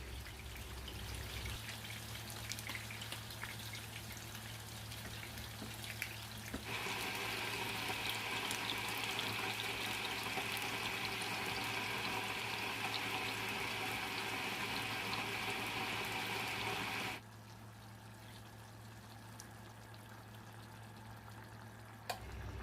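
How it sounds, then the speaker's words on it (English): Boiling hot water is poured into a pot of cauliflower and tilapia fish curry. It makes a steady rushing splash that swells for several seconds under a constant low hum, then stops, leaving a softer bubbling. "I'm gonna add boiling hot water to it before I add my fish."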